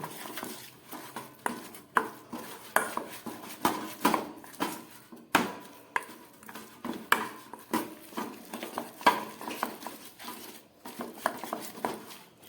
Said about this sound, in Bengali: সব দিয়ে দিলাম এটাকে আমি খুব ভালো করে এবারে মিশিয়ে